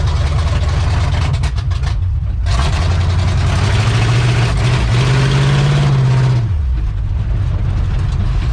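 A Chevrolet C10 pickup's engine idles close by with a steady, loud low rumble, its pitch rising and wavering partway through before settling back down.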